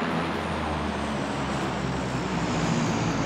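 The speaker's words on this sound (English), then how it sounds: "See the plane fly over? I heard it." Transport plane droning overhead in the video game PlayerUnknown's Battlegrounds, a steady, distant engine rumble holding evenly throughout, with no voices.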